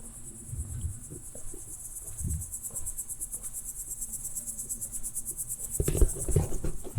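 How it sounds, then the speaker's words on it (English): Crickets chirp in a dense, even, pulsing trill near a lake in Germany, fairly faint and continuous, with a few soft low thumps underneath and no talking. "There's something quite hypnotic about the sound of crickets."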